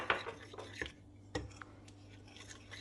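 Flour is stirred into warm sugared water in a bowl, giving a few soft clinks and scraping rubs of a spoon against the bowl, quiet and close with gaps between strokes.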